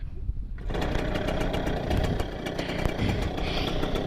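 A motorcycle engine running with the choke on starts abruptly and then holds a steady, loud, rough drone with faint irregular ticks, close by, with no talking.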